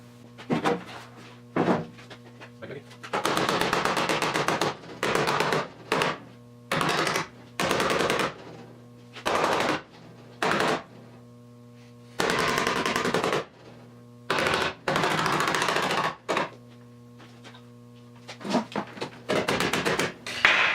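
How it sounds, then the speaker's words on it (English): Metal fender of a 1970 Triumph TR6 being worked during restoration, bursts of rapid hammering in irregular runs separated by short pauses, loud and close, with a steady low hum beneath and no talking. "So now I'm gonna remove the fender and do some bang bang."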